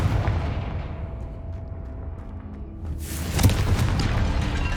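A Confringo blasting spell explodes in the Hogwarts Legacy video game, set inside a tomb: a sustained rumbling low roar that swells into a loud burst partway through, then carries on as a dense, noisy blast.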